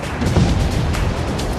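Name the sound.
distant explosions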